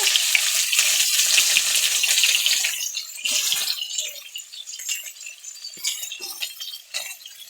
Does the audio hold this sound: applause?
no